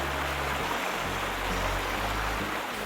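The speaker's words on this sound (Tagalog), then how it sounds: "tambay muna rito sa man-made waterfalls at damhin ang lagaslas ng tubig" Steady rushing water pours from a man-made waterfall at a spring-fed resort pool, a dense, continuous close-up roar with a low rumble underneath and no talk.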